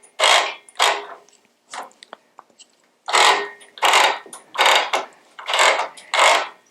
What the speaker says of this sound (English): now I'm going to roll my quilt back on